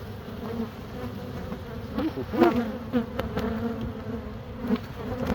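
A dense, steady buzz of many honey bees in a hive hums close by, with individual bees zipping past now and then.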